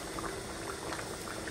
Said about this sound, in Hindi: घी अब मैं डालने लगी, देसी घी।